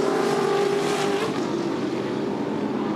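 Touring cars racing on a circuit, a Camaro among them, their engines a sustained loud drone with a steady pitch that holds throughout.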